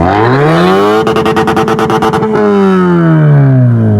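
Loud, close revving from a restored 2002 Toyota SE Saloon 1.6 with its exhaust cutout open, the engine pitch sweeping up and down with a rapid popping, crackling burst midway and no talk.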